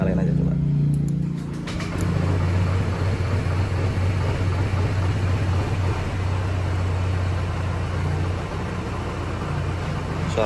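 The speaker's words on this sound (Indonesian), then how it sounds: "Suara mesinnya kayak gini" A new Honda Vario 160 CBS scooter engine starts up and settles into a steady, slightly rough idle, a low continuous hum close by with a voice talking over it.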